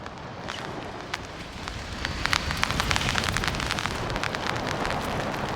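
Heavy rain and gusting wind at the Ghataprabha dam make a steady, dense roar with scattered sharp drop impacts that thicken midway, close and unbroken, with no voices.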